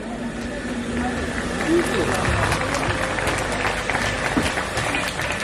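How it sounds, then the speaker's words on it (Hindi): A youth gathering's audience claps for the officials, a dense steady patter of applause filling the hall throughout, with crowd noise beneath. "अधिकारियों के लिए एक बार जोरदार आप ताली बजा"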